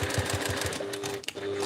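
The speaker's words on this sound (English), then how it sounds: "So I already feel like I'm sewing on industrial machine" A semi-industrial sewing machine stitches fabric for a Tony Tony Chopper backpack, its needle pounding in a fast steady rhythm up close, then pausing briefly before running again.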